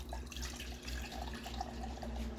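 Starchy potato cooking water poured into a measuring cup, a close, steady trickling and splashing stream with faint gurgles, running continuously without pause.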